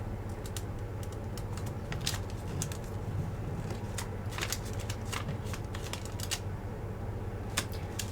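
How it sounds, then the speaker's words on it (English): Paper is creased and folded by hand for an origami Easter basket, giving faint, close crinkles and soft snaps over a steady low background hum. "Fold from the bottom tip to the center crease that we just made."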